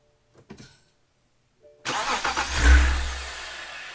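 A BMW E90 with the N52 engine, just fitted with a new starter, cranks briefly and fires up, its engine roaring loudly close by before settling, after a few soft clicks from the key.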